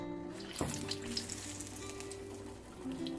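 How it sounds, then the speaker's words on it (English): Potato and cauliflower pakora fritters, dipped in batter, fry in hot oil with a close, steady crackling sizzle. A sharp splash-like burst comes early as one goes in, then continuous bubbling follows at a soft, even level. "You just need to dip in this mixture and carefully add in the oil."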